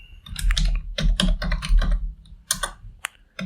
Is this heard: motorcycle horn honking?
no